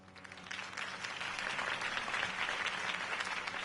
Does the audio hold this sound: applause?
yes